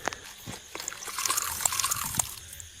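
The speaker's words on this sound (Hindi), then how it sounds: "कुएं के पास पहुंचते ही ठंडी हवा चली और पानी के नीचे से कुछ बुलबुले उठे।" Water in a well bubbles and gurgles with irregular small pops and trickles, fairly faint and close, with no voices.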